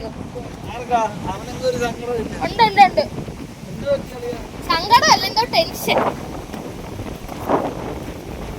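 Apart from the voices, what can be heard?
strong wind on a beach at night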